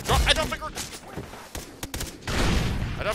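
Chaotic Far Cry 3 co-op battle erupting with bursts of gunfire and a grenade blast, loud broadband booms at the start and a dense burst near the end, with voices talking over the action.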